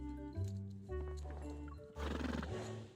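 A horse neighs loudly and close by, with a long whinny over the clip-clop of hooves on the ground as the horse moves.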